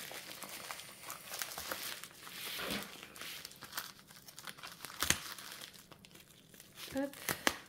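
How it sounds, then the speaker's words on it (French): Bubble wrap and cardboard packaging from a diamond painting kit crinkle and rustle as it is unwrapped, with a few sharper crackles and tears near the end, close by and fairly loud. "Vous voyez, il y a 2 cartons, du papier bulle."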